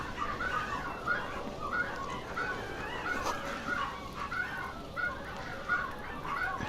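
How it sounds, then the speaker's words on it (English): A dog in the room making repeated short whining, honk-like cries in a steady rhythm, fairly faint over low background noise. "Sorry about dog noises."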